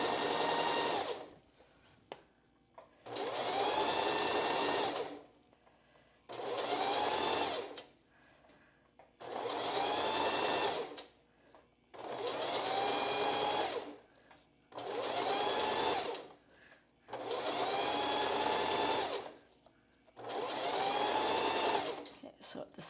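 A sewing machine runs in eight short bursts, stitching a zigzag seam on a strapless bra, each whirring run separated by brief pauses, close and clear with someone talking quietly in between.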